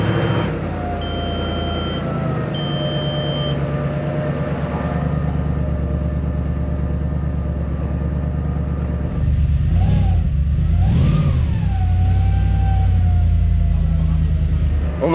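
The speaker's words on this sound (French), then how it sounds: "On entend bien le sifflement des turbos aussi pour le coup sur celle-là" An 800 hp car engine with turbochargers, parked in a garage, idles with a steady deep drone, then revs sharply in a few loud bursts near the end, with a thin high turbo whistle above it.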